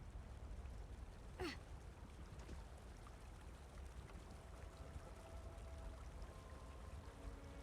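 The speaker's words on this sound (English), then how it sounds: "It's a beautiful waterfall." A waterfall in an Elder Scrolls Online player housing area gives a steady, even rushing wash of water that runs unbroken throughout, with no voices.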